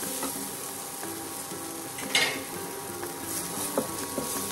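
Ground coriander and spices sizzling in hot oil as they are stirred in a pan for masala sandwich filling, a steady crackling fry with occasional spoon scrapes and clinks.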